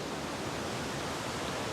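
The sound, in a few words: stream water flowing down from Naubahini waterfall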